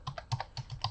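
Computer keyboard keys pressed in a quick shortcut combination during business card layout work, several sharp close clicks in an uneven rhythm with no talk.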